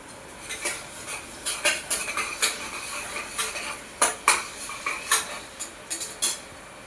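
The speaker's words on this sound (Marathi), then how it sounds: "कांदा चांगला वगैरे मस्त परतून गेलेला आहे. त्याच्यात हे टमाटे वगैरे टाकते." A utensil scrapes and clinks in a pan as tomatoes go into sautéed onions and get stirred, with irregular metallic taps and scrapes close by and no talking.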